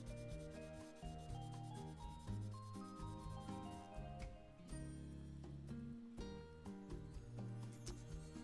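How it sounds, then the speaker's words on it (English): A Wii circuit board is sanded by hand during a handheld console build, giving a continuous close scratchy rubbing with steady back-and-forth strokes over soft background music. "So we just give the board a nice sanding to make sure that won't happen."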